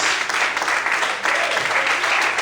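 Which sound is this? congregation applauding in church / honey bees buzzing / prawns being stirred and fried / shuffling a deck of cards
congregation applauding in church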